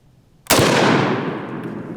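A single sharp rifle shot fired over a chronograph cracks loudly near the middle, then rings out in a long, fading outdoor echo.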